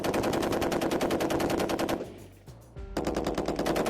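An M240 7.62 mm gas-operated, belt-fed machine gun firing long, rapid bursts of sharp, evenly spaced shots, pausing briefly before resuming, loud and close.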